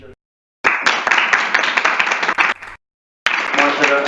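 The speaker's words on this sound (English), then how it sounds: "So a big round of applause for each of you." Applause from an audience at a LinkedIn Local networking event in Lahore, rising in two loud stretches of dense clapping split by a short silence, with voices mixed into the noise.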